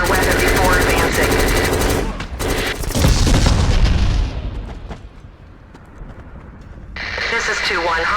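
Rapid weapon fire and heavy booms in the game Black as mines are shot and detonated, a loud burst of shooting and explosions followed by a quieter lull before firing resumes, with radio voices over it.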